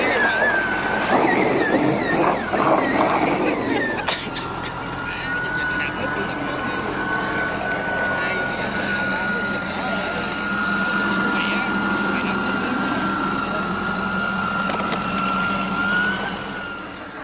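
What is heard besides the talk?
model boat and model tug engines racing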